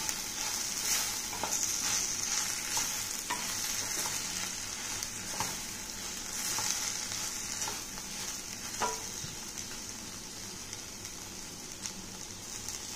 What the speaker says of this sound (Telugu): ఇప్పుడు శుభ్రంగా అంతా కలిసేటట్టు కలుపుకుందాం.